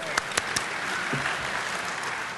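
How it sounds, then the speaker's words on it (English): Conference audience applauding a speaker at a hacker convention, continuous dense clapping with a few sharp nearby claps standing out at the start. "Let's give Dustin a round of applause."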